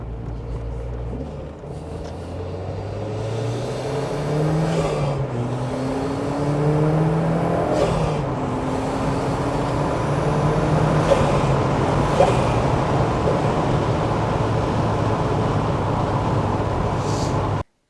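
Turbocharged NC Mazda Miata being driven, engine droning steadily with rising and shifting pitch through gear changes, heard from inside with constant road rumble.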